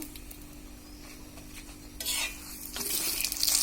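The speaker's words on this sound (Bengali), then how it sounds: "তেলটা দিয়ে দিলাম। এটাকে এখন ভালোভাবে ভেজে নেব।" A laccha paratha frying in oil in a pan, with a low steady background hiss that swells into a louder bright sizzle in the second half, close by and without talking.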